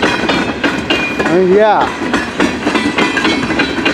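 CN freight train rolling past near Emmett, Michigan, a loud steady rumble of rail noise with rhythmic wheel clatter and a brief wavering squeal, with a voice speaking briefly over it.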